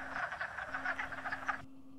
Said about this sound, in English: listening for the duck-like calls of the wood frog